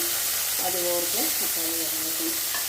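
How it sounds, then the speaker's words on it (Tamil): Onion and tomato sautéing together in a pan, giving a steady sizzle throughout the short stretch with faint tonal sounds drifting in the background. "இப்போது நம்ம எடுத்து வச்ச வெங்காயம் தக்காளி எல்லாத்தையுமே சேர்த்து வதக்கிடலாம்"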